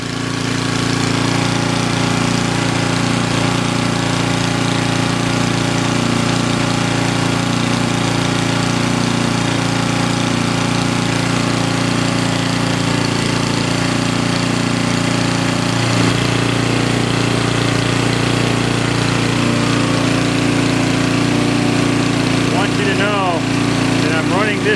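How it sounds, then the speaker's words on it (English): An engine with HHO reintroduced runs under a steady load in a leaner state, a loud, constant droning hum that holds level throughout, with no clear talk over it. "This engine right now with the HHO reintroduced, considerably leaner than it was running before"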